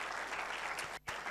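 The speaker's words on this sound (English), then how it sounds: "Can we hear a round of applause for them?" Audience applause for debate teams at a debate event, a brief steady burst of clapping with a momentary dip.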